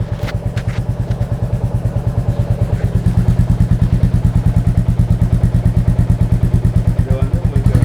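A Royal Enfield Classic 350 Reborn or Meteor fitted with an aftermarket silencer idles up close, giving a steady, loud, evenly spaced thumping beat throughout.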